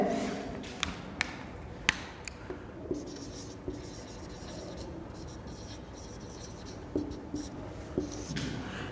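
Chalk or marker writing an example on a classroom board during a Hindi solid mechanics lecture: sharp taps and strokes recurring irregularly, close and clear over a quiet room hiss, with no talking.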